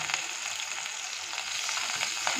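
Chicken fries in a pan with garlic and ginger paste, a close, continuous hissing sizzle that holds steady throughout, with a faint stir of the pan and no talking.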